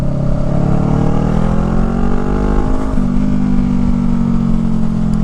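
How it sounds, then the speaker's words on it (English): Honda Rebel motorcycle fitted with a Shorty GP exhaust revving hard, a loud, steady close-up engine drone with rising and falling pitch as the revs climb high, alone without talk. "when you're really ringing the bike out that it's got a little bit of kind of like a rattling noise"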